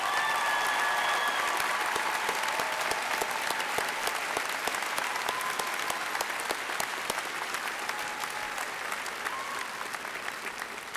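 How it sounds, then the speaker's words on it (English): A large crowd at a high school graduation ceremony applauds the faculty, with dense, sustained clapping that fills the hall and slowly tapers toward the end, plus a few faint whistles. "Let's give them a round of applause at this time"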